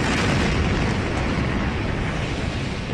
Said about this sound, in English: A massive explosion sent shockwaves tearing through the Lebanese capital.